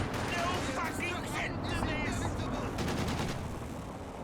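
Anti-tank gun fire and battle noise in Company of Heroes 2: a dense, continuous rumble of shots and explosions sits under a commentator's steady talk throughout.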